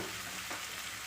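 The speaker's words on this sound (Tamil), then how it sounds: "கடுகு போட்டு தாளிப்போம். கடுகு, கருவேப்பிலை, வெங்காயம்" Mustard seeds and curry leaves sizzle in hot oil for a quick Tamil curry, giving a dense, steady hiss that stays loud and close from start to finish, with no voices.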